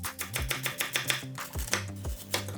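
A knife slices cabbage into thin julienne strips on a cutting board, a rapid, even series of crisp chopping taps close up and fairly quiet, with no voices.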